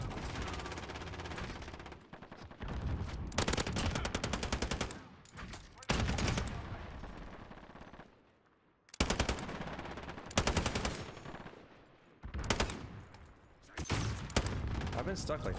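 Fully automatic FiNN LMG fire in Modern Warfare: long, loud bursts of rapid gunfire separated by short pauses, with a voice talking over parts of the action.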